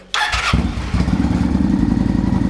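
A Kawasaki Vulcan 900 cruiser motorcycle engine with a Cobra PowrPro starts up after a whirring crank and settles into a loud, loping idle with an uneven, throbbing beat close by.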